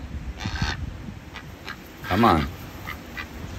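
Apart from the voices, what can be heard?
pet duck quacking and honking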